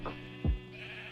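A sheep bleats once, short and moderately loud, over a steady low hum, alone with no talking.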